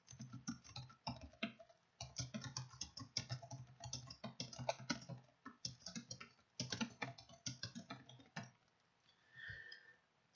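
Typing a message on a computer keyboard, rapid uneven bursts of close key clicks with short pauses, then a quieter moment near the end.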